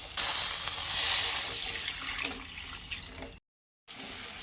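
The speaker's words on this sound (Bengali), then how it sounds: "এবার এর মধ্যে আমি দিয়ে দেবো জল" Water is poured into a pan of fried potatoes, a steady close splashing pour with a faint sizzle. It fades slightly and cuts to a brief silence near the end before resuming.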